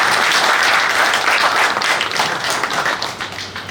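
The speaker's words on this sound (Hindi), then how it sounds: "एक बार तालियां बजा दो भाई।" Teachers and staff at a school retirement farewell applaud together, a close, dense burst of clapping that holds strong then gradually thins out over a few seconds.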